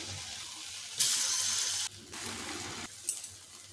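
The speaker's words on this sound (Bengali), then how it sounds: "এখন এই ডুমুরটা এইভাবে গোল গোল করব আর তেলের মধ্যে ছেড়ে দেব" Round pieces of fig are dropped into hot, smoking mustard oil, setting off bursts of bright, close frying hiss that swell, drop away and return in short surges.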